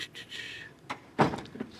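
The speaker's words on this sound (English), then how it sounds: "close the door there." In a courtroom during a West Virginia trial, a door swings shut with a soft thud after a faint sliding rustle, quiet and fairly close, followed by a brief latch knock.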